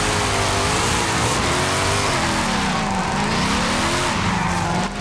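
A 2024 Ford Mustang Dark Horse, front-engined and rear-wheel drive, drifts in the racing game Forza Horizon 5, its tires squealing loudly and continuously over a wavering engine drone, close and unbroken.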